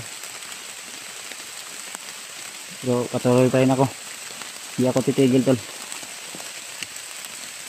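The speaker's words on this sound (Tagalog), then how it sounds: "Medyo naabutan tayo ng ulan tol, pasensya na po." Rain falls outdoors as a steady, soft hiss of drops on surfaces that runs throughout. Someone speaks briefly over it in two short bursts.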